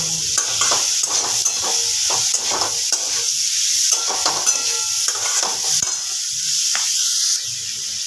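Dalia with chopped green chillies is stirred in a pan: a loud, continuous sizzle runs throughout beneath repeated close scraping strokes and light metallic clinks of the spoon.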